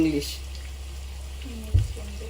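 Onions softening in a pan for a Konkani lunch, gently sautéed without browning; a soft, steady sizzle with a low hum underneath and a brief clatter near the end, while someone talks over it.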